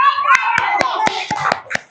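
Children clap in sharp, separate claps at a roughly even beat, about eight in two seconds. The claps sound close, and voices speak under them.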